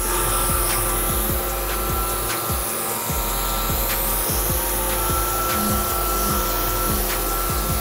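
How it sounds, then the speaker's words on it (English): A power sander whirs steadily and loudly throughout, with a constant motorized drone and faint rubbing as it works across hard solid surface material. "The material we're sanding is solid surface."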